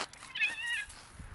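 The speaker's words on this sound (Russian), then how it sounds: "Опять драки котов идут тут." Cats playing and fighting outdoors, one short strained meow with a wavering pitch rising out of faint background rustle, fairly close and brief.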